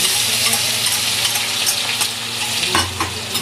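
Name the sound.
crushed garlic and coriander seeds frying in oil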